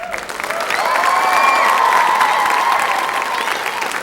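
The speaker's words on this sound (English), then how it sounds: "Like, a big applause to them." An audience applauds dance students after a summer dance academy performance, with dense sustained clapping and some cheering from a crowd indoors. A loud tonal whistle-like ring runs through it.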